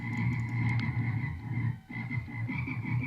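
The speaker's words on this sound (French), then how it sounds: "Des grenouilles." A frog from the Minecraft Lotofmob mod croaks in a steady, buzzing, repeated rhythm. The sound is loud and close and continues almost unbroken, with only a brief dip partway through.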